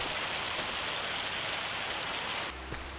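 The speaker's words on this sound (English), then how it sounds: "The rain is still falling." Rain falling in Farming Simulator 25, a dense, steady hiss of rainfall that cuts out abruptly near the end, leaving a quieter low rumble.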